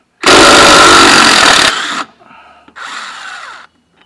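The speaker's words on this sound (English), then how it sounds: "I got my Harbor Freight impact here" A Harbor Freight impact wrench hammers at a bolt on a Troy-Bilt Bronco lawn mower, with a loud, close burst of rattling that stops, a short pause, then a second, quieter run of the tool.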